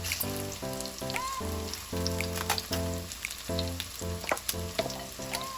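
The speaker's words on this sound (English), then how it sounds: "So now that our oil is heated, we're going to go ahead and add our onions." Onions and garlic sizzle and crackle in heated oil over a medium-low flame for Jamaican-style corned beef and cabbage, a steady frying hiss with popping spatters running under a repeating melodic music bed.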